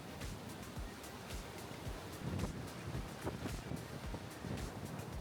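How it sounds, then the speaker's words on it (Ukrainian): Wind in Paklenica canyon, Croatia, buffets the microphone in steady gusts, a low rumbling roar with faint surf-like wash underneath. "Не знаю, чи завжди тут так вітряно, але було знатно."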